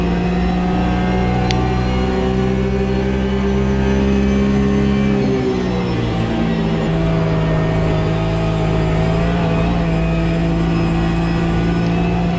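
A race car engine in the sim racing game Automobile Simulator 2 (AMS2) drones steadily and loudly throughout, its pitch easing and shifting midway as the car changes speed, with no talking.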